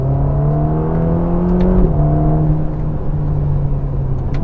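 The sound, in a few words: Ferrari Roma engine revving, accelerating in sport mode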